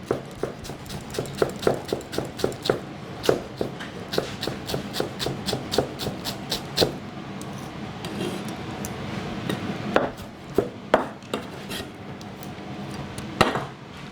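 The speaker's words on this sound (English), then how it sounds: "Fresh cilantro. The leaves, rough chop. The stem, fine chop." A knife chops fresh cilantro on a board, giving a close, steady run of sharp, rapid taps, rough for the leaves and finer for the stems, then slower, spaced strikes toward the end.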